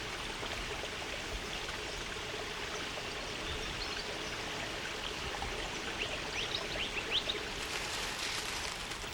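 A stream flows steadily over a rock-strewn creek in shaded Australian mountain forest, a constant close rushing and trickling with faint bird calls above it.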